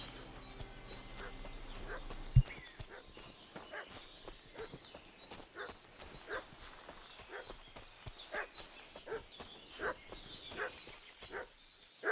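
A dog barks repeatedly at a distance in the video game Kingdom Come: Deliverance II, mixed with horse hoof clip-clops and footsteps over quiet game ambience.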